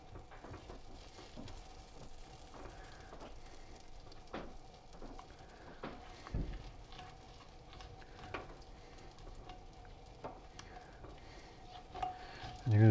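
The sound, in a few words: butter sizzling in a pan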